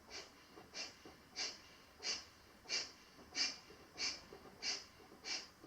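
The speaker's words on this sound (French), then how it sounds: "Toujours la respiration de feu" Breath of fire in a hatha yoga class: rapid, forceful nasal exhalations in a steady even rhythm, about nine sharp bursts spaced well under a second apart, close and clear with no talking.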